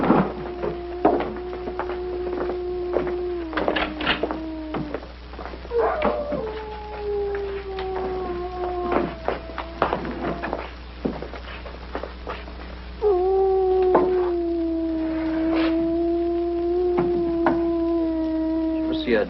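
A dog howls in long, drawn-out wails, several sustained calls separated by short pauses, with a yip and other voices mixed in.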